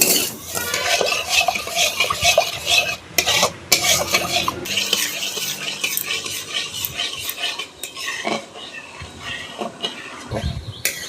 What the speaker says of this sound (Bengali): ক্যারামেলের জন্য চিনি দিয়ে দেব সব। চিনিটা ঘন ঘন নাড়বো,